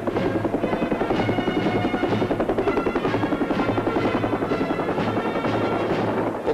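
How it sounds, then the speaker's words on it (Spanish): Loud, continuous rotor chop of military helicopters flying overhead during a 1978 Armed Forces Day air parade in Spain, a dense rhythmic thudding that stays steady throughout with no voices. "El desfile aéreo se cierra con 12 helicópteros ligeros del Ejército del Aire y 32 helicópteros pesados"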